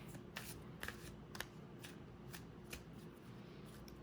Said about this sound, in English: So shuffling it is a little harder than with my other cards.